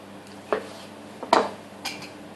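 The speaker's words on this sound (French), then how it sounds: "vous prenez votre tomate cerise et vous la coupez en 4" A knife cuts cherry tomatoes into quarters on a board, three sharp separate taps and clicks over a quiet room background, close by, no talking.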